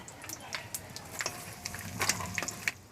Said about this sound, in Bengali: ফোড়নের জন্য 5 ফোড়ন দিয়ে দেব, 2টো তেজপাতা, একটা শুকনো লঙ্কা দিয়ে দিলাম।